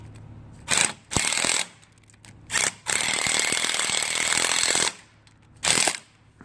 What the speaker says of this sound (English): Just got to tighten up these screws.